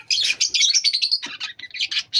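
Pet parrots, Java sparrows and Australian parrots chirp together up close in a busy, continuous stream of bright, rapid tweets and twitters.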